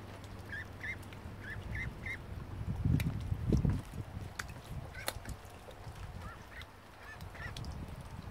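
A duck with angel wing gives a series of soft, nasal honking calls in short pairs over a quiet, rustling background with some low handling bumps.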